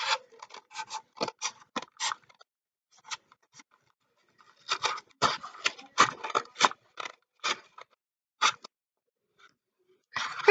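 Scissors cut through the cardboard sides of an egg carton, giving crisp, close crunching snips in quick clusters with short pauses in between and no voices.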